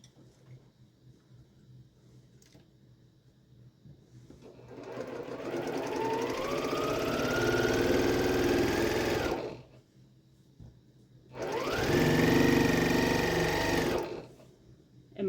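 Mechanical sewing machine stitching with a new needle, two close whirring bursts that ramp up and run steadily, separated by a short pause, with faint room noise between.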